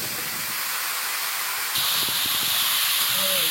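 Pumpkin pieces go into hot oil with panch phoron and onion, and the steady sizzle jumps suddenly louder as they land, with a few soft clunks of stirring under the hiss.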